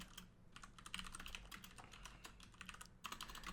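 Rapid, continuous keystrokes on a computer keyboard clatter close by, with a brief pause before the typing picks up again, and no voices.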